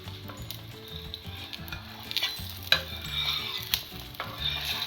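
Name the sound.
egg omelette frying and sizzling in a pan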